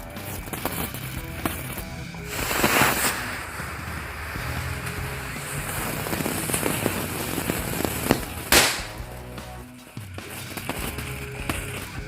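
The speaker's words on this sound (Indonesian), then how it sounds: "Ini menyalakan mercon tank baja nih." A burst of Indonesian steel tank firecrackers crackles in a rapid, uneven string of pops and bangs, loud and close, with a couple of sharper blasts standing out.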